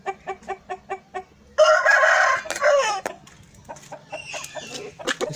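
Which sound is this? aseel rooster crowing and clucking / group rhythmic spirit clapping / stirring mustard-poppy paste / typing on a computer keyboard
aseel rooster crowing and clucking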